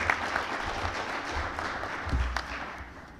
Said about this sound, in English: Let's applaud him as he comes to stage.